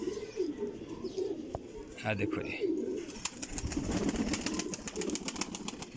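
Pigeons coo in a loft, low throaty calls repeating through most of the stretch, with scattered chirps and brief wing flutters, while someone talks over them close by.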